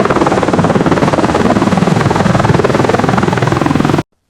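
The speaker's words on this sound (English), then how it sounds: "3 helicopters flying at high speed through a massive red rock canyon." Three helicopters race in tight formation through a massive red rock canyon in an AI-generated scene, giving a loud, continuous pulsing rotor thump that holds steady for about four seconds and then cuts off abruptly.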